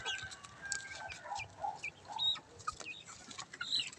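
Backyard chickens clucking and pecking as they are fed, a busy patter of short clucks and soft chirps, fairly close and scattered without pause.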